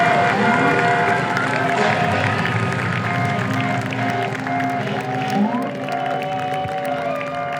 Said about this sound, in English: cheering on the essential workers, like the people going into this hospital